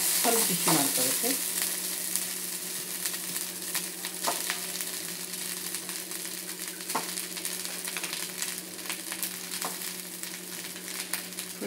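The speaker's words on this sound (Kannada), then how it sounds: "ಅನ್ನ ಶೇಂಗಾ ಮೊದಲೇ ಹುರ್ಕೊಂಡಿನಿ, ಸ್ವಲ್ಪ ಬಿಸಿ ಮಾಡ್ಕೋಬೇಕು" Cooked rice and peanuts reheating in a hot pan for puliyogare, sizzling steadily while a spatula scrapes and stirs in irregular strokes, close and continuous with no talk.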